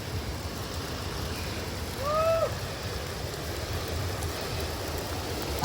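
Floodwater pours down a swollen creek in the San Jacinto Mountains as a constant, dense rushing roar, with a short whistling call rising briefly above the flow partway through.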